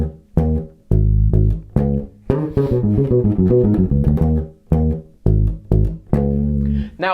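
Bass guitar playing a challenging unison passage, a fast run of clipped, punchy notes grouped in displaced fours, loud and close with no voice over it.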